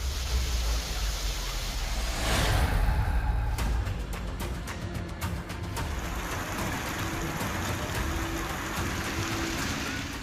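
Heavy monsoon rain pours down on waterlogged streets in Palitana, Gujarat, a steady, dense wash of noise that stays loud and continuous throughout.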